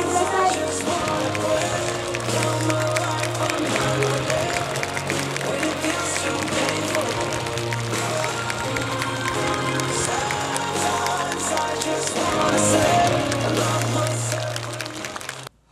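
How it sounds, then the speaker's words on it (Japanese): Theater audience at a stage greeting for a film director, sustained dense applause with cheering, with music or crowd noise layered throughout, swelling near the end before cutting off abruptly. "拍手でお願いください。"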